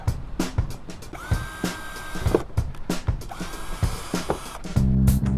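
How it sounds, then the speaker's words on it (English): Short bursts from a power drill boring starter holes in an RV fender skirt, several brief whirring pulses separated by clicks and handling noise, ending with a louder sustained run. "Time for some starter holes."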